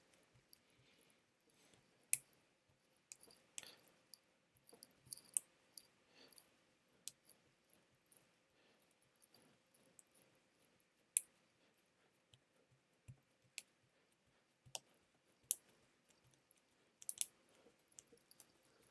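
Mechanical keyboard switches snap into place one by one while a KBD8x MKII keyboard is assembled: faint, sparse sharp clicks scattered irregularly across a quiet background.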